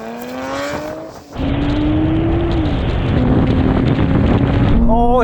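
Nissan GT-R cars launch in a drag race from R32 to R35 generations: a loud engine roar with rising gear pulls, a sharp dip at a shift, then sustained wind-buffeted rushing with the engine droning under it.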